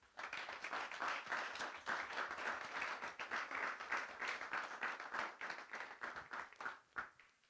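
A church congregation applauding during a sermon: dense, steady clapping from many hands fills the whole stretch at an even level, tapering off at the very end.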